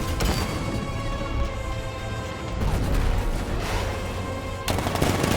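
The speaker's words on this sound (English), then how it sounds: ".60mm cannon operational." Tank cannon fire in the video game Batman Arkham Knight comes as loud, dense blasts and crashing bursts, with a brief lull in the middle before another heavy impact.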